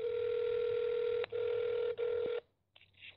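Telephone keypad tone pressed to pick option 1 in an automated phone menu, a steady electronic beep cut into three bursts over about two and a half seconds, followed by a faint trailing sound.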